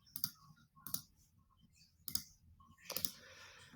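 Computer mouse clicks, four sharp, separate clicks spaced irregularly over a few seconds, close and fairly quiet against faint room noise, no talk.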